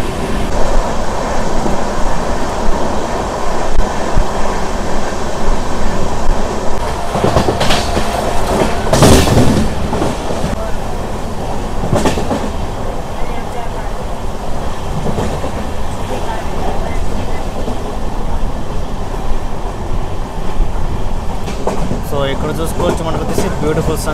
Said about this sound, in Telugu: సో ఈ పనపాకం దగ్గర మన ట్రైన్ కరువు తీసుకుంటుంది